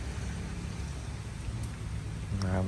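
Rain falls on a vegetable garden in a steady, close hiss that continues throughout, and it swells slightly at the very end.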